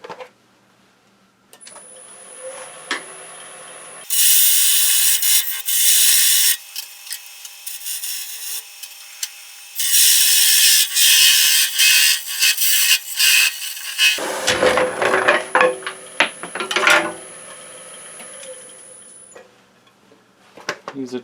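Sawing at a woodworking bench to part off a wooden piece: loud bursts of rough cutting noise in two long runs, followed by scattered knocks and clatter, close by.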